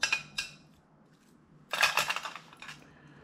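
Metal fishing spoon lures, one very long with a hook, clinking as they are handled: a couple of light taps, then a brighter cluster of jangling, close and fairly quiet, with no talking.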